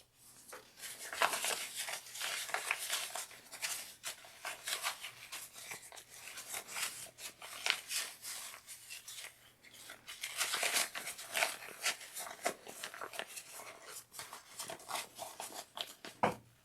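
Scissors snipping the fabric corners of a sewn yarn project bag, a steady run of close, crisp cuts and rustling cloth with no talking.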